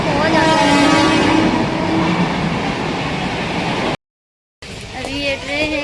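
A suburban train at a Mumbai station gives a loud, steady rumble with horn-like tones. After a short break, squealing and tonal horn sounds return, with voices in the crowd.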